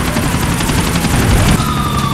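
Helicopters in Grand Theft Auto Liberty City make a loud, steady rotor drone with a pulsing beat throughout, layered with game noise and a brief high whine near the end.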